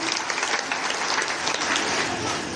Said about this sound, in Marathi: वाजवा जोरात टाळ्या